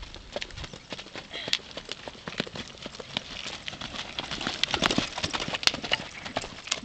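A horse loping, its hoofbeats drumming in a steady, rhythmic three-beat pattern throughout, fairly close and clear with no talk over them.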